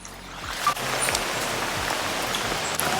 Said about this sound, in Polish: Chowają się przed deszczem.